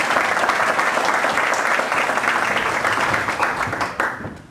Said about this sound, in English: why don't we give him a big applause?